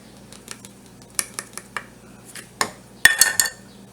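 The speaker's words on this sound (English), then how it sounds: "I'm just using a 1/4 cup measuring spoon here." A quarter-cup measuring spoon scoops brown sugar for muffin batter in a kitchen. Scattered light clinks and taps give way to a louder cluster of clatter near the end, with no voices.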